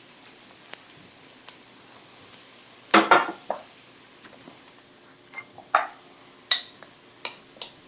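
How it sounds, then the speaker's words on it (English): Garlic and spices sautéing in olive oil for a creamy vegan Hungarian paprikash with caramelized cabbage: a soft, steady sizzle broken by several sharp clinks and scrapes of stirring in the pan. "I'm going to saute the garlic and bloom the spices in it"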